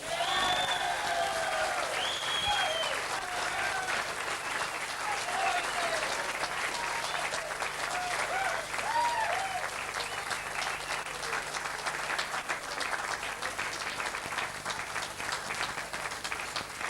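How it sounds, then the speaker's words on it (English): Sustained applause from a large crowd at a boxing event, loud and steady throughout with scattered cheers. "A round of applause, Peter Mullen."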